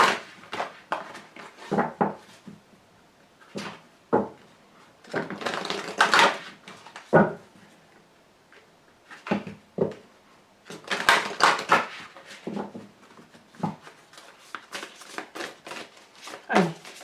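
Tarot cards are shuffled and drawn at a table, giving sharp papery riffles and slaps in irregular bursts, close and fairly loud, with quiet gaps between them.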